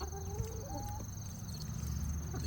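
Backyard hens and roosters being fed cheese and pork skins cluck softly at close range. Short calls are spread over faint, steady ambient noise.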